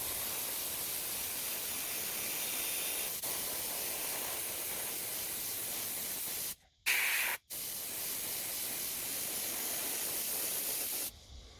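Steady hissing spray from an aerosol or airbrush painting a 200mm surface paddler fishing lure, close and continuous, with a couple of brief pauses before it resumes.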